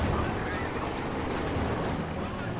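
A mounted machine gun rattles in Company of Heroes 2, a dense, continuous burst of battle noise with overlapping gunfire for the whole moment.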